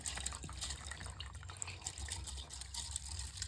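Water trickles and splashes into a mixer jar holding rice, a soft, steady pour with small dripping sounds, fairly quiet and close.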